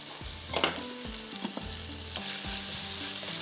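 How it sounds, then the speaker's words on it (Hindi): Soy sauce, salt, crushed chilli and oregano fry in a pan for honey beef noodles, giving a loud close sizzle with rhythmic scraping strokes of a spatula, and no one speaks. "हल्का सा इसको पहले फ्राई कर लीजिए"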